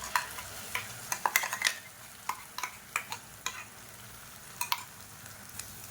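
Onions and ground garlic chilli paste fry in a pan for a spicy chutney, with close, irregular stirring scrapes and soft sizzling ticks over a quiet hiss, and no voices.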